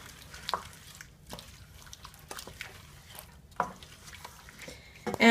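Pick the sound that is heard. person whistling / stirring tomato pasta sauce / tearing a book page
stirring tomato pasta sauce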